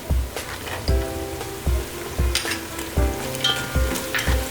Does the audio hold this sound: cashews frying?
yes